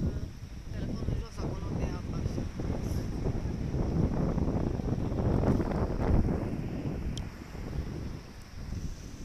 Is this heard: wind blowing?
yes